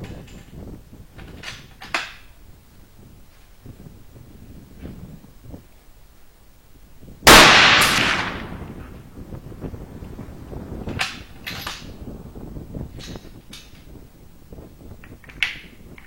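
One sharp, loud report from an HP Varmint Slide rifle chambered in 6 mm BR cracks out midway and rings away, with quiet handling sounds before and after it.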